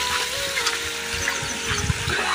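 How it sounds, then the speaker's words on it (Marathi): A small waterfall along the Anjaneri Fort trek pours steadily, giving a close, continuous rush of splashing water with no break across the short stretch. "हा बघा छोटासा धबधबा, वॉटरफॉल"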